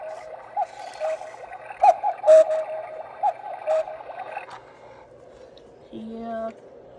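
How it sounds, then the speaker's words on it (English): A battery-powered cuckoo clock gives several short repeated cuckoo calls at moderate volume, followed by a brief low tone near the end, with faint room noise between calls. "Times the cuckoos, it's gonna cuckoo 4 times."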